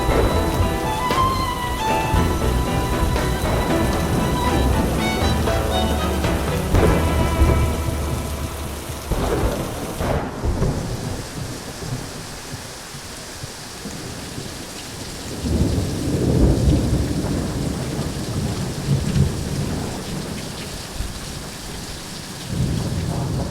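A summer thunderstorm pours down heavy rain, a dense continuous hiss drumming on surfaces, with a loud crack of thunder near the middle followed by deep rumbles rolling on through the downpour.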